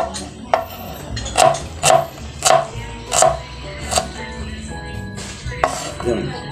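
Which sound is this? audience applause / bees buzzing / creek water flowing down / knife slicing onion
knife slicing onion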